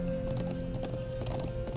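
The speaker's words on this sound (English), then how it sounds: "you can definitely see Reen enjoying his horse ride" Horse hooves clip-clop in a steady rhythm during a ride through the Nord Highlands in the video game The Legend of Heroes: Trails of Cold Steel, with a sustained tonal hum running underneath.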